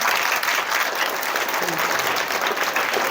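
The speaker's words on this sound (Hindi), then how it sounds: "उन लोगों के लिए एक बारी ज़ोरदार ताली" Loud applause from parents and children at a teacher-parent meeting, a full, even burst of many hands clapping that fills the whole short stretch without letting up.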